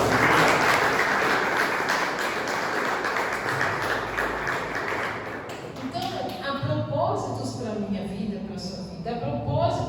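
A church congregation claps loudly and steadily during a sermon, the dense applause fading after about five seconds into scattered claps and murmuring voices.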